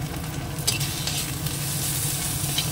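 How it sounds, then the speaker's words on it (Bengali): Ground turmeric, coriander and cumin sizzle loudly in a hot pan while being stirred, a constant close frying hiss broken by scraping strokes of the spoon, with no voices. "এবার কষিয়ে নিই মশলাটাকে ভালো করে।"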